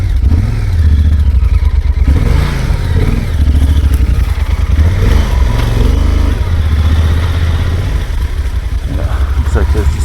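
A motorcycle is put into gear and ridden off on a mountain road near San José del Pacífico in Oaxaca, Mexico, its engine chugging loud and close as it pulls away, with a rider speaking over it.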